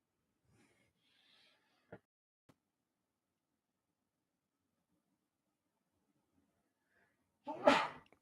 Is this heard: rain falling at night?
no